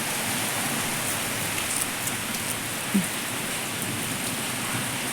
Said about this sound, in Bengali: দেখো বৃষ্টি হচ্ছে ঝমঝমিয়ে